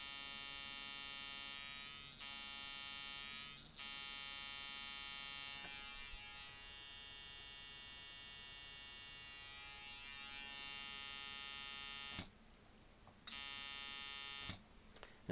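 A brass Lynx liner tattoo machine with Wesley Verity coils, run at 3.5 volts, gives off a steady, close electric buzz that stops and restarts several times.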